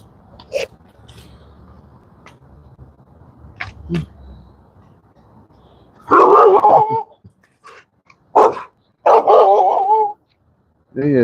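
A dog barks outdoors in a few loud, sharp bursts, close by, after a stretch of quiet background with faint scattered sounds.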